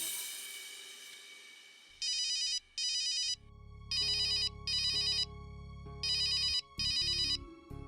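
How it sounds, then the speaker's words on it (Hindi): A phone ringtone chirps in repeated bursts, three pairs of loud electronic trills separated by short pauses, with a low hum beneath. "विट्ठल का फोन।"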